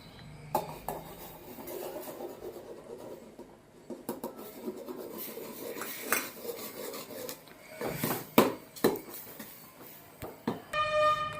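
A utensil scrapes and knocks against a pot in uneven bursts as rice flour is stirred into boiling water into a thick dough, close up, with no voices.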